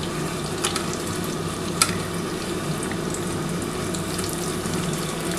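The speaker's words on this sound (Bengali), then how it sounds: "তিন পিস করে আমি ভেজে নিচ্ছি বন্ধুরা।" Egg chops deep fry in hot oil, a steady, even bubbling sizzle with a few sharp crackles, continuous and moderately loud with no voices.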